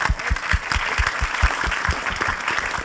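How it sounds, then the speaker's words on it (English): An audience at a Q&A panel discussion claps in a quick, steady round of applause, moderate in level and fairly close, lasting a few seconds without voices over it. "Maybe premature for a round of applause,"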